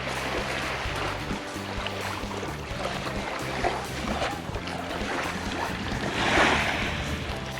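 Waves wash onto a rocky beach of brownish-red sand on Minnesota's North Shore. A continuous rolling surf is mixed with wind buffeting, and one wave swells a little louder near the end.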